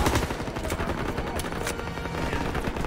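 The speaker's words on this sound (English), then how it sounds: "Shooting this gun is essentially very easy." Dense, rapid gunfire from a World War II weapon in Call of Duty WW2, loud and close, with rattling bursts repeating almost continuously for about three seconds alongside other battle noise.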